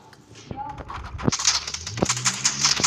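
Gunshots in a video game: a few sharp, close cracks spaced irregularly over a noisy game background, with a voice talking over them.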